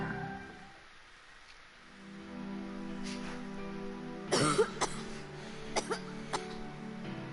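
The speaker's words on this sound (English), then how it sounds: "Oh, you sure cough a lot sometimes, Remsky." Coughing from a character in the video game Final Fantasy Type-0, a few sharp bursts near the middle and end of the clip over a steady low game background, with no talk.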